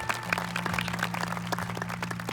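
A congregation at a Hindi church healing meeting in Karanjvel claps together in thanks, a steady run of many overlapping hand claps heard from a moderate distance over a low electrical hum.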